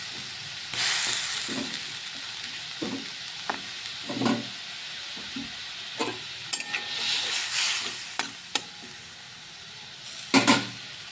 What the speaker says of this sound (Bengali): এটা এখন 5 মিনিট ফুটে তারপরে আমি নামিয়ে নেব